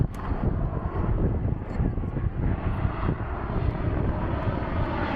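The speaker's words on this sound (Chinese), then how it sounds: "哦，飞机来了，那里就是飞机" A small airplane arriving at an airport in Batumi, its engine drone loud and steady throughout, with wind buffeting the microphone.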